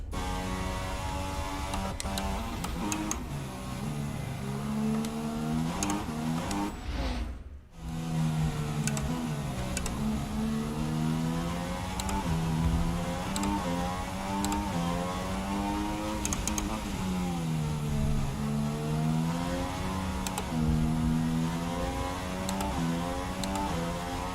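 A Formula 1 car engine in the F1 2016 video game, a high, whining drone that holds nearly steady and then shifts pitch, with a brief cut near the middle before the sound resumes, loud and continuous, with no voices.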